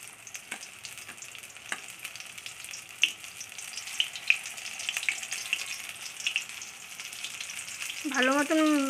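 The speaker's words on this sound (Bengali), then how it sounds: "কড়াইয়ে দিয়ে দিয়েছে লোটে মাছটাকে।" Bombay duck fish coated in gram flour batter fries in a wok with a steady, moderately loud sizzle and crackle. Occasional light clinks come through, and a brief stronger hiss rises near the end.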